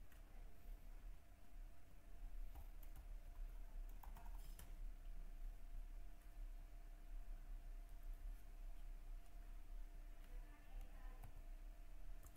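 Quiet typing on a computer keyboard while Python code is entered, a steady light patter of key taps over a constant electrical hum, with faint speech now and then.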